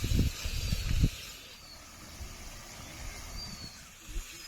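Spices with turmeric and Kashmiri red chilli powder fry in oil for a rui fish curry, a brief loud burst of sizzling and stirring at the start that settles into a soft, steady background hiss.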